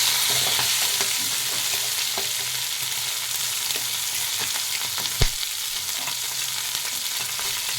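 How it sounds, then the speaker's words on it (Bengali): Fish head pieces fry in hot oil in a pan, giving a steady bright sizzle with scraping stirs and one sharp knock of the spatula, close and alone. "মাছটাও ভালো করে ভাজা হয়ে গেছে। এবার আমি একটু ভেঙে দেবো।"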